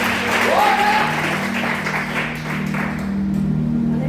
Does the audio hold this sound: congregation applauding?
yes